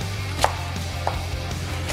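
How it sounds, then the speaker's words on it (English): A few sharp knife taps chopping an onion on a cutting board, about three chops spaced unevenly, close up over a low steady background hum. "Chopping up some onion."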